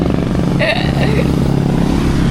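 Motorcycle engine on a road in Bicol running loud and close with a steady drone, with voices talking over it.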